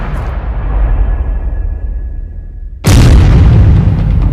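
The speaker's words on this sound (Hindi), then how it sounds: "हम आपको दिखाते हैं हूथी ने कैसे ग्रीस के तेल टैंकर को धमाके में उड़ाया।" A Greek-flagged oil tanker explodes in the Red Sea: sudden loud, broadband boom cutting in partway through, following steady rumbling background noise, then a sustained roaring blast that holds to the end.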